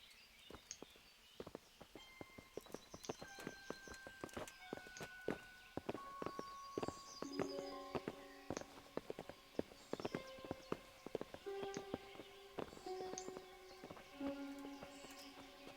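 Horses' hooves clip-clop in irregular, overlapping clusters of sharp knocks at moderate distance, joined by sustained tonal notes and faint buzzing.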